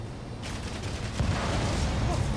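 Gunfire from the Spider-Man video game, a dense rattling fusillade of rapid shots that grows louder after the first half-second and continues steadily without a break.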